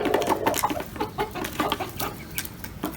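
A new rooster clucks while pecking at soaked flatbread, with a steady stream of short, close clucks and pecking clicks over the whole stretch, alone without talk.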